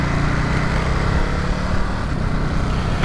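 A 2022 Ducati Supersport 950 S sportsbike is ridden on the road, its engine drone blending with heavy wind rush in a loud, steady roar that stays constant throughout.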